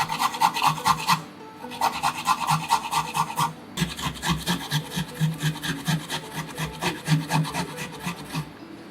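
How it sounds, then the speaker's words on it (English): Ginger being grated for a Szechuan chicken marinate, a steady run of dry rasping strokes, close and fairly loud, with a brief pause before continuing in even rhythmic passes. "Grated 2 centimeters of ginger."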